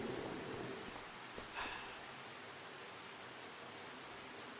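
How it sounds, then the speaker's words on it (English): Steady rain in the video game Farming Simulator 25 hisses as an even, continuous wash of noise, fairly faint, with a brief louder spatter partway through and no voices. "The constant rain noise just irritates me."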